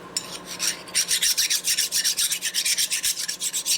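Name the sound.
metal file filing engine part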